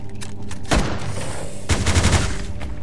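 Heavy weapons fire in the mobile survival game Last Day on Earth, two loud rapid bursts of gunfire about a second apart, with no talking.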